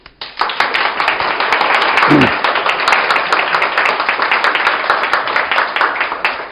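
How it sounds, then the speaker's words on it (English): Studio audience in London applauds a team, loud dense clapping that starts suddenly and holds steady, with a brief voice or low sound partway through. "I think a round of applause, because Singapore will see this, to our Sing team."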